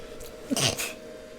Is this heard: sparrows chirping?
no